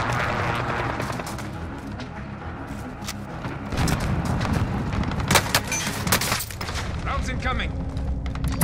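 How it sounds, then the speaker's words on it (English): Precision airstrike and gunfire in Call of Duty: Modern Warfare, a dense, loud barrage of booms and shots rumbling continuously, with heavier blasts midway and a brief voice speaking over the combat. "Be advised, friendly precision airstrike inbound."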